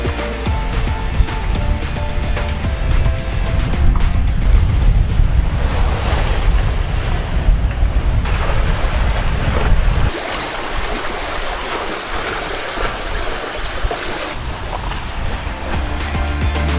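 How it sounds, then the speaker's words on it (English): A sailboat running downwind back to a marina, with steady rushing waves, hull splash and heavy wind buffeting the microphone throughout, loud and continuous. "A nice downwind sail back to the marina."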